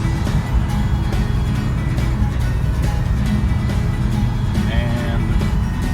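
A 1967 Mustang GT with a 289 V8 cruises in third gear on a test drive, a continuous loud low drone heard from inside the car while someone talks over it.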